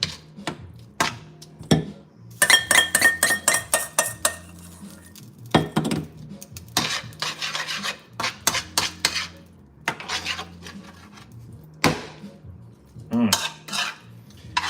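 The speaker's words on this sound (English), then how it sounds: "Just keep stirring." Metal utensil scraping and clinking against a pan while pasta carbonara with cream is stirred, loud and close, with irregular bursts of rapid clatter and short pauses between.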